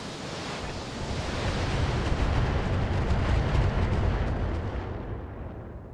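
A BattleTech mech fires all its weapons at once in the video game, a dense roaring blast of noise that swells over a few seconds and then fades out, loud and alone with no talk.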